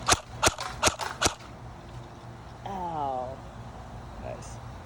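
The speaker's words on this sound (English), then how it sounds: "That's what happens when you shoot straight at a brick wall, literally." A CYMA AK-47 airsoft rifle fires four quick, sharp shots at a brick wall in a steady rhythm, followed by a quieter stretch in which a voice speaks briefly.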